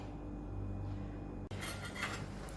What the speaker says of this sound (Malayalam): നമുക്ക് മീൻ ചട്ടി ഇതിൽ വെച്ച് കൊടുക്കാം